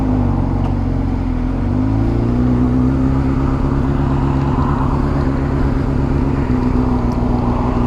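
A 2009 Honda CBR600RR sport bike on a test ride down a twisty road, its inline-four engine holding a steady loud drone with a brief rise in pitch as it accelerates, alone without talk.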